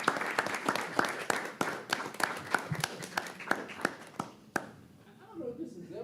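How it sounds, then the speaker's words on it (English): Applause from the audience at a Danville city commission meeting, a run of sharp, uneven claps that thins out and stops, leaving quiet room noise and faint talk. "I want to give you a round of applause"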